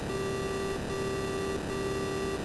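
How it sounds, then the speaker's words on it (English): Three long, steady electronic beeps from an Atari 8-bit racing game repeat in an even rhythm, clear and prominent over a buzzy game background. "Beep"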